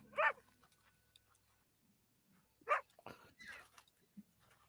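A dog barks in Red Dead Redemption 2, with a couple of sharp, fairly close barks or yelps separated by quiet gaps, over faint game ambience.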